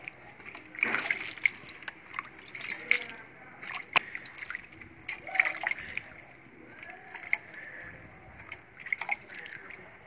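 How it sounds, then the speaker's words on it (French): Water is sprinkled lightly from a container onto a home compost pile, giving soft irregular splashes and drips spread across the whole stretch, fairly quiet and close, with no one talking. "nous prenons un peu de l'eau, nous arrosons légèrement"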